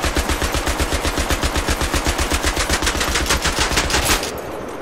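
Rapid, steady machine-gun fire in Battlefield 3, a continuous loud burst of evenly spaced shots from a weapon that overheats when held down, stopping abruptly near the end.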